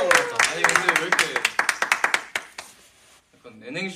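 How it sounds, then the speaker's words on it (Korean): Hands clapping in a rapid, uneven burst during a K-pop group's year-end livestream, loud and close, fading after about three seconds before a voice speaks briefly. "자 아무튼 박수."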